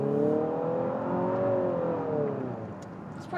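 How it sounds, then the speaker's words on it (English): A 2023 Infiniti QX55 engine revs steadily upward under full throttle through a continuously variable transmission, a smooth rising drone heard from inside the cabin, with no voices. "I'm going to go ahead and floor it."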